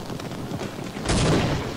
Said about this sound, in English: Stop with the grenades.